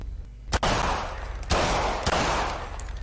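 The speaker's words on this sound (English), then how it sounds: "These sound so cool, these gunshots." Gunfire in GTA V, several sharp, loud shots in quick succession with a dense rattling burst ringing between them, close and dominant with no talking.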